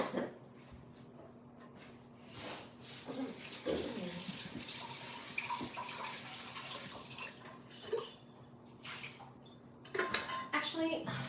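Dishes and cutlery clatter in a kitchen sink with intermittent running water while tea water is readied, a steady tap hum underneath and brief speech and coughs at moderate, close range.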